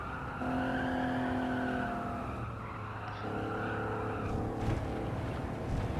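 A Maserati Merak in Gran Turismo 7 runs briefly onto gravel, its steady engine drone carrying shifting tones while tires scrub and rumble over loose stones, continuous and fairly loud with no talk.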